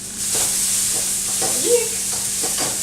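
Onions frying in a pan are stirred, with a steady sizzle under several scraping strokes of the spoon, close and moderately loud, and no talking.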